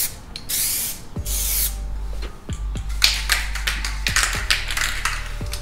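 Spray paint mists from an aerosol can onto Dodge RAM SRT-10 emblems in several short hissing bursts, each close and fairly loud, with light taps and clicks between passes.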